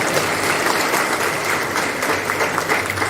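A crowd at a political speech breaks into dense, sustained applause, a continuous close wash of clapping with no talk.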